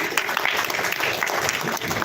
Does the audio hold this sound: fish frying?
no